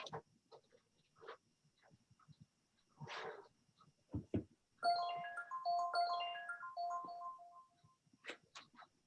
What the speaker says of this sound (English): Wasn't that my phone?